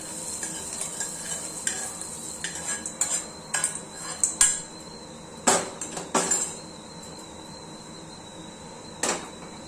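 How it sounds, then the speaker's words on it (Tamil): Sautéed onions are tipped into barnyard millet batter and mixed, giving a series of utensil clinks, scrapes and taps against a bowl over a faint background hiss, close and fairly sharp. "இப்போ வெங்காயம்லாம் வதங்கிடுச்சு இப்போ மாவில் கொட்டிக்கலாம்"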